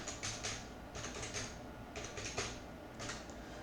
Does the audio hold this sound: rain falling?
no